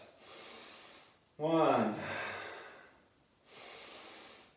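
Deep breathing during a morning core exercise session: a sharp inhale followed by a long exhale, with softer breaths before and after, close and fairly quiet, a voice briefly counting.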